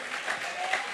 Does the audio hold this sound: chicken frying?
no